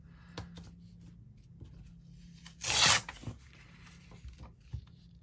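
A page tears out of a small handmade notebook in one short, crisp rip, close and quiet, with soft rustles and light paper handling before and after.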